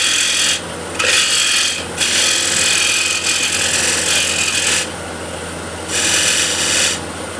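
A skew chisel cuts a small step into a spinning walnut or cherry spindle on a wood lathe, a steady scraping rasp that swells in three long passes over a continuous motor hum.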